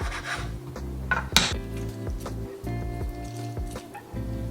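Chopped tomatoes, onion and lime juice being stirred together in a bowl, giving soft wet rubbing and scraping with a few clinks of utensil against the dish, close and steady throughout.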